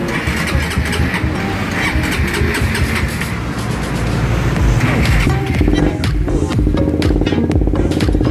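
A motorcycle engine fitted with an aftermarket Raptor exhaust muffler revs and idles with a deep, throaty exhaust burble, loud and close, sustained throughout with rising throttle blips.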